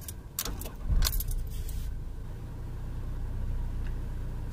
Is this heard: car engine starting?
yes